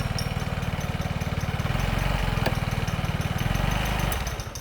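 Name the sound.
motorcycle engine running with irregular faulty noise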